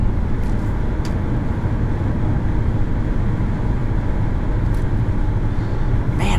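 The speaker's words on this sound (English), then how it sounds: "this 2-liter is a good motor" Cabin sound of a 2022 Infiniti QX55 with its 2-liter engine under way, a steady low engine and road rumble with faint tyre and wind noise, constant and unbroken.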